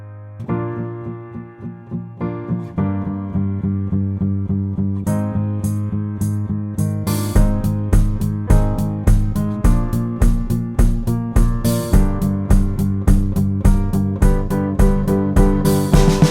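Instrumental pre-chorus of a song without the vocal. Steady eighth-note piano chords and bass build up, and drums enter with a driving kick pulse midway. The mix is full and continuous, with no voice.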